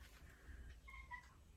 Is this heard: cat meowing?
yes